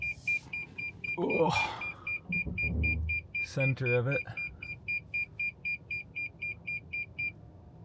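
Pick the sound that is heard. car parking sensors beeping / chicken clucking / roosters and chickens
car parking sensors beeping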